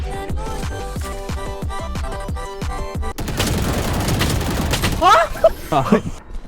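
Music with sharp beats gives way to a burst of rapid gunfire and explosions from the video game Valorant, dense and loud, with electronic effects near the end.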